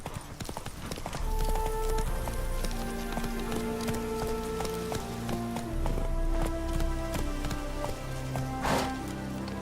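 Horse hooves clop steadily and rhythmically through The Witcher 3 as the mount gallops, close and clear over a game music score with occasional rain-like patter.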